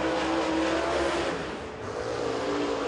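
Race cars at Volunteer Speedway accelerate together on the green flag of Carolina Clash qualifying, a loud continuous engine roar with revving swells, close and unbroken throughout.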